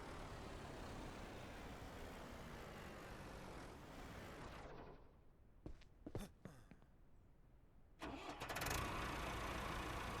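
A truck engine in the Ranch Simulator video game stops after a steady run, then a few clanks and clicks follow before it starts up again and settles into a loud, even idle.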